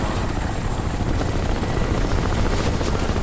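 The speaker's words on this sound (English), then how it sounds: "I gotta get away from that helicopter." A helicopter in the video game Crysis roars loudly and continuously, with a dense rotor chop filling the whole stretch and no break or fade.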